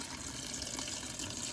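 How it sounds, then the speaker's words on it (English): Fresh water from a tap running into a pot to cover dry pinto beans, a steady, close rushing stream with no pauses. "Cover them with fresh water."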